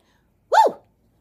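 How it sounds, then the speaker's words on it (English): A single short, sharp sneeze bursts out close by, then silence. "Oh, I'm about to sneeze."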